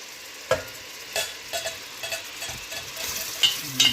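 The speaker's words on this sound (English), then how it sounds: "I'm just ladling it in a little bit at a time." Turkey broth is ladled into a pot for creamy lemon turkey soup with tarragon, a few soft splashing pours and clinks against steady background hiss, close and fairly quiet.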